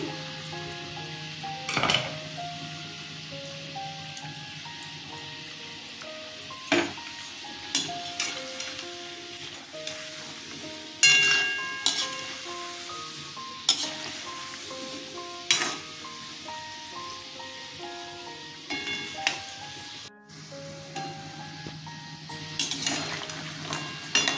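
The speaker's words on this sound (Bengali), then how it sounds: "আমার এগুলো ভাজা হয়ে গেছে, তুলে নেব" Khasta gaja, small crisp dough sweets, sizzle steadily as they fry in hot oil, with occasional utensil clinks and scrapes while they are stirred and lifted out.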